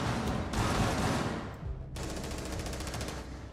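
Video game gunfire crackles in dense, rapid bursts, loud and close, with a short gap before another sustained stream of shots.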